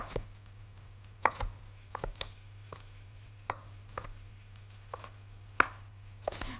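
A knife chops red bell pepper on a cutting board in sharp irregular knocks, about a dozen distinct close hits over a low steady hum, no voices.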